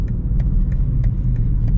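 BMW X6 M Competition, a 2025 SUV, accelerating hard with a deep, steady engine rumble and low road roar filling the cabin, with faint higher ticks on top.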